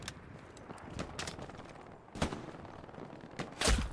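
Sharp sniper rifle shots ring out in the World War II shooter Hell Let Loose, a few spaced cracks with the last one loudest, over quiet battlefield ambience.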